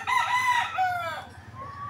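A rooster in a backyard chicken pen surrounded by bamboo crows once, loud and near, in a drawn-out call that trails off, followed by a brief softer note.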